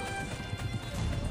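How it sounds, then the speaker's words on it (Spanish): Horse hooves clip-clop in quick rhythm from a horse following close behind in Assassin's Creed Brotherhood, faint and brief, with light game ambience underneath. "Viene atrás mío este caballo de mierda,"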